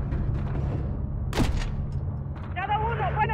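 Gunfire in the video game Modern Warfare 3, a single sharp shot burst around the middle over a steady low rumble of game background noise, with a brief high chirping effect near the end.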